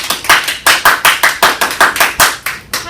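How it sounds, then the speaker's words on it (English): Close, loud hand claps from a small group welcoming a guest, about a dozen sharp, evenly spaced claps in a quick steady rhythm with no talking. "Let's give him a round of applause."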